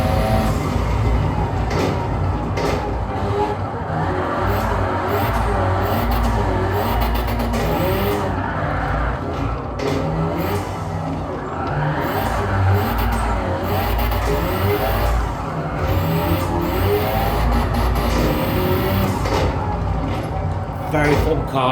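A racing car with an 800 brake horsepower engine swap drives in Gran Turismo 7, its engine droning steadily loud throughout and holding revs through bends, while someone talks over it the whole time.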